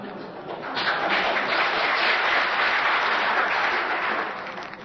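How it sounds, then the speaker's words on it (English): A debate audience bursts into sustained, dense applause, many hands clapping loudly and evenly before it tapers off. "Is that applause, I take it, is for the question and not for my answer."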